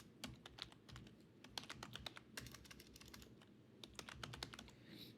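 Rapid clicking keystrokes on a computer keyboard as an SQL query is typed, irregular bursts of close, crisp taps with short pauses, no talking.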